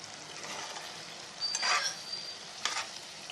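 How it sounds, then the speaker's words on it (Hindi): Ridge gourd with green chillies sizzles softly as it fries in a pan, a steady low crackle with a brief louder burst of stirring partway through and another short clatter near the end. "और अब इसमें लास्ट में आप हरी मिर्चें ऐड करके इसे 5 मिनट तक भून लीजिएगा।"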